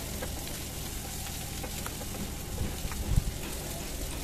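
Shrimp frying in a pan with red chili powder and meat masala, a steady close sizzle and crackle with a few louder stirring knocks near the end.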